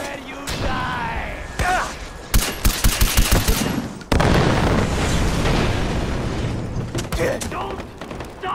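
Heavy gunfire in the video game Far Cry 4, with loud rapid bursts of shots and booming blasts packed close together, while a player shouts excitedly over the shooting.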